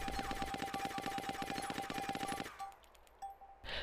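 Suppressed fire from a silenced SD assault rifle in DayZ, a steady fast automatic stream of muffled shots lasting over two seconds, then a few scattered single pops.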